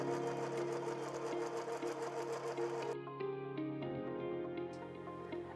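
A sewing machine stitches over the end of a coiled rope basket, running in a steady, fast mechanical whir that shifts pitch partway through, close up with no talking.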